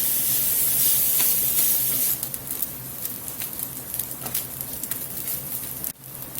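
Sausage and minced onion sizzle in a hot pan for stuffed bell peppers, a steady hissing crackle that is loud and bright at first, then settles into a softer even fry with scattered pops.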